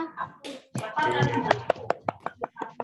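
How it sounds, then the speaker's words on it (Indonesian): In a primary classroom, a voice talks briefly before the students clap together for group 2 in a series of sharp, rhythmic claps. The claps are close and distinct, fairly regular and growing more even toward the end. "tepuk tangan dulu untuk kelompok 2"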